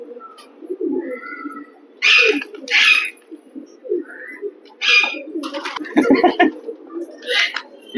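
Pigeons coo softly in repeated low, throaty phrases, with a few higher chirps and rustles mixed in, fairly close by.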